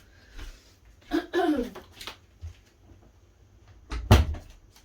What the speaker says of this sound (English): just closing a door